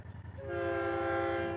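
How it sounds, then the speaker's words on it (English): A train horn sounds steadily as a train passes nearby, the sustained multi-tone blast swelling in after a moment and holding loud over a low rumble of rolling cars, heard from the roadside along the Lincoln Highway. "got a train coming here"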